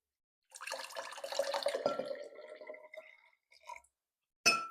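Half a cup of water is poured during a kids' home science experiment, a trickling, splashing stream running for a couple of seconds, then a few short drips and a brief clink at the end.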